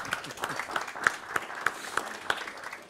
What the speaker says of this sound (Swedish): Applåd på det.